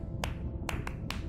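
Sperm whale clicks recorded underwater in the Eastern Caribbean, a 1+1+3 coda heard as a few sharp, evenly loud clicks with uneven gaps over a low rumbling sea background.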